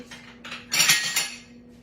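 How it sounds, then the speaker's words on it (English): A small bowl is picked out from among dishes while making broccoli salad, giving a quick cluster of bright clinks and clatters of crockery and utensils, close and moderately loud, with no talking. "I'm going to get me one of these little bitty bowls"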